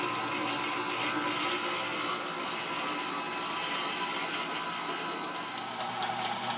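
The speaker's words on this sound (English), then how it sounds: "I'm going to show you how all those ingredients are mixing together. That's our peanut butter and our oats with everything else we've put in so far." An electric mixer churns peanut butter and oats into a dough, a steady whirring motor hum with light rattling and clicks that grow sharper near the end.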